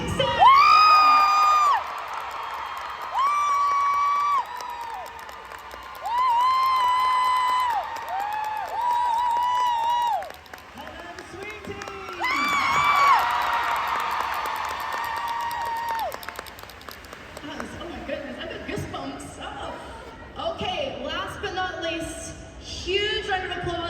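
A convention crowd at a Doctor Who panel at Fan Expo Dallas cheers, whoops and claps to welcome a guest to the stage, with loud high-pitched shouts that come in bursts and then give way to mixed crowd noise.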